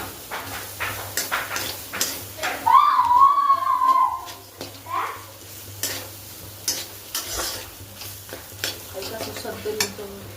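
Ingredients for bread chop stirred and mixed in a pan, with scraping, clinking stirring strokes and a faint sizzle at moderate volume, a brief high whine midway, no talk.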